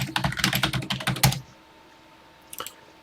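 Typing on a TI-99/4A home computer keyboard: a quick run of close, crisp key clacks for about a second and a half, then quiet, then a couple more key presses.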